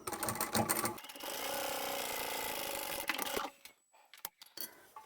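A sewing machine stitches the closing seam of a double-sided zipper pouch made from scrap fabric. It opens with short handling clatter, then runs steadily for about two seconds before stopping. Faint rustling follows.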